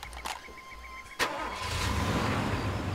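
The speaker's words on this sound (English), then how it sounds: "It was a car over there." A car engine in the video game Far Cry 2 starts with a sharp burst and settles into a steady low rumble, fairly close, after a brief quieter stretch with faint game sounds.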